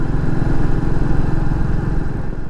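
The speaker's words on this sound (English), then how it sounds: "The engine in the TW200 is a 196cc 4-stroke engine" A Yamaha TW200 with its 196cc four-stroke single idling close by, a steady loud low chugging throb with no voices over it.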